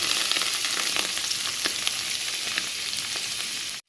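Chopped onions sizzle steadily in hot oil while being stirred for a Muslim-style chicken fry, a dense, continuous frying hiss with faint scraping ticks of the spoon throughout, close and loud with no talking.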